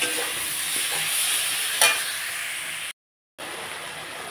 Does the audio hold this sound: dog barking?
no